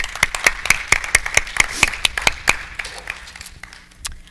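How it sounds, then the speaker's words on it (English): Audience clapping for the organizers at an African diaspora business networking event, a moderate run of sharp hand claps that thins out toward the end, with no talking over it. "Ladies and gentlemen, help me to give a round of applause to our amazing organizers."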